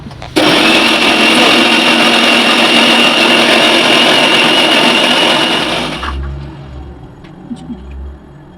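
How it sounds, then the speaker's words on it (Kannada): An electric mixer grinder whirs loudly and steadily as it grinds chicken sambar masala into a paste, running for about six seconds before cutting off, followed by a few faint handling knocks. "ಸೊ ಇಷ್ಟನ್ನು ನಾವೀಗ ಏನು ಮಾಡ್ತಿದ್ದೀವಿ ಅಂದರೆ ಗ್ರೈಂಡ್ ಮಾಡ್ಕೊಳ್ತಿದ್ದೀನಿ"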